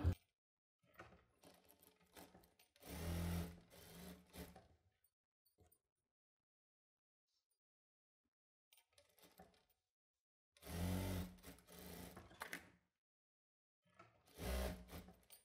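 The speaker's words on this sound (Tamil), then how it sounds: "இப்போ பேக்கும் ஃப்ரண்ட்டும் நம்ம ஒண்ணா தையல் போட்டு எடுத்துக்கலாம்" A sewing machine stitches the shoulder seam joining the back and front of a child's dress, running in three separate bursts with quiet pauses between them, close and clear.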